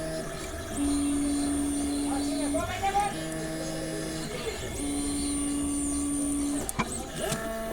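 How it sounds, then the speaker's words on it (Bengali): Cutting machine trimming a phone sticker, a steady mechanical whir with whining motor tones that rise and shift as the blade moves, continuous and fairly loud throughout with a brief click near the end. "দেখেন কত সুন্দরভাবে মেশিনটা কাটিং করতেছে"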